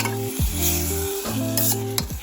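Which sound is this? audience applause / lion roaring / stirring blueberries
stirring blueberries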